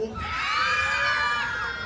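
Audience at a pageant's national costume segment shouting and cheering, with high excited voices and whoops rising together in a loud, sustained crowd roar for nearly two seconds.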